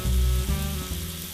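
Quartered mushrooms cooking in a pan with salt and pepper, a loud close sizzle with a low burst at the start and faint stirring.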